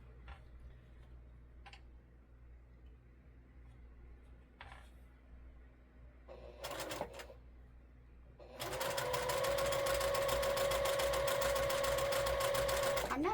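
A sewing machine stitches quilt blocks, starting up after some quiet handling noises and then running steadily and loudly at close range for several seconds.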